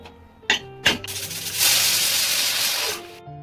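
A pressure cooker cooking carrots in milk releases steam through its whistle, a couple of short bursts followed by a loud, sustained hiss lasting over a second, close up.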